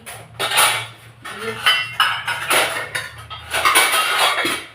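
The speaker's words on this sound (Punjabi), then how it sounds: "ਹੁਣ ਮੈਂ ਮਾਂਜੂਗੀ ਭਾਂਡੇ" Dishes being washed by hand at home, with pots, plates and cutlery clattering and clinking in quick irregular bursts close by, fairly loud and without talk.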